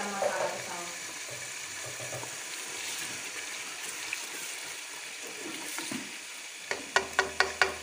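Chicken and mutton keema fries in a pan with a soft, continuous sizzle under faint talk, followed near the end by a few sharp taps of a spoon against the pan.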